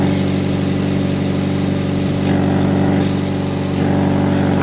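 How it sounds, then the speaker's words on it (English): A Mazda MX5 idles steadily with its exhaust blowing from a rusted, corroded joint, giving a loud, continuous low engine drone close up with a slight rise in level partway through. "you can hear where the exhaust is blowing, where the joint is just so rusted and corroded that the exhaust gas is actually"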